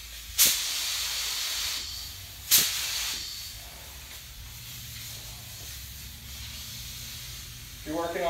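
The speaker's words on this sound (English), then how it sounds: "make sure that it's spraying well" A paint spray gun hisses steadily for several seconds while spraying a motorcycle fender, with two sharp bursts of air at the start and a faint mechanical whir at the end.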